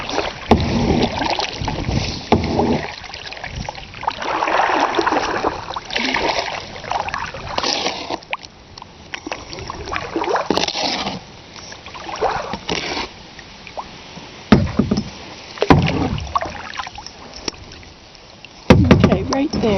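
A kayak paddled on Barber Lake: bursts of paddle splashes and hull sloshing come close and irregular, mixed with wind buffeting the microphone, with brief stretches of quieter water between strokes.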